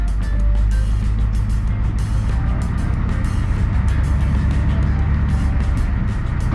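A church bus engine idling and rumbling as it backs up a few feet, a loud steady low drone that stays close and continuous throughout.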